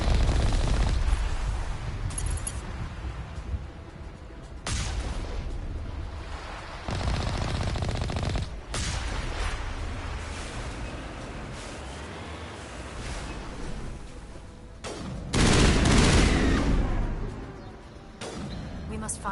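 Gunfire and heavy booms in a Mass Effect 1 battle, dense shots and blasts rolling on and off over twenty seconds, with a voice speaking over them at times.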